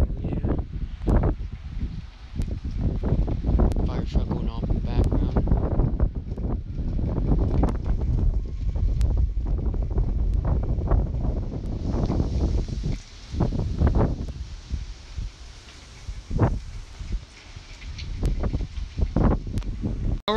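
Wind from Hurricane Eta in Fort Myers, Florida, buffets the microphone in heavy, rumbling gusts with gritty rustling, steady and loud for most of the time, easing slightly in the later stretch.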